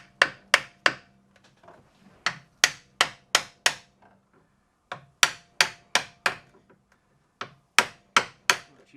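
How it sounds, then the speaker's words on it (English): Sharp hammer strikes pound a part into a Polaris RZR 800 clutch, ringing out in quick bursts of three or four, with short pauses between groups, close and crisp with no talking. "pound it in with the hammer"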